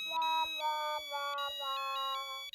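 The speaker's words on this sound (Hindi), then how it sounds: "अरे लेकिन वाकई में किसी का फोन बज रहा है। किसका फोन बज रहा है?" A mobile phone ringtone plays a repeating electronic melody of bright tonal notes in short phrases, close and clear, with no talking during it.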